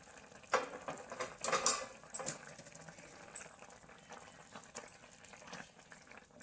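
A pot of kevla wild-vegetable amti simmers on the stove, bubbling and popping softly in uneven bursts, close and fairly quiet.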